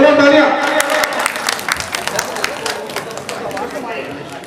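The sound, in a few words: audience applause at religious gathering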